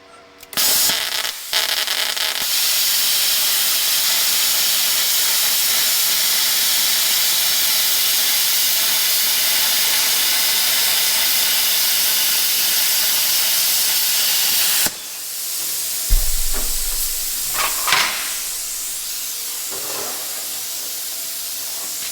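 An Arccaptain Cut55 ProLux plasma cutter slices 1/4 inch steel plate with a loud, steady hiss lasting about twelve seconds, then cuts off abruptly, leaving a compressor kicking on and scattered clanks.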